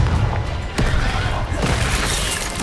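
Confringo fire spell blasts during Hogwarts Legacy combat against an Acromantula, a dense, loud roar of explosive bursts and crackling impacts layered over continuous game battle noise.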